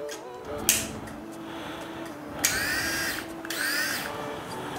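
An oraimo RS20 rotary electric shaver with floating heads runs close by with a steady motor hum, broken by a few louder, harsher buzzing bursts.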